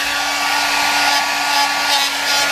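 Heat gun or hair dryer blowing on JB Weld epoxy during motorcycle fairing crash repair, a steady loud whooshing hum with a constant motor whine, up close and alone.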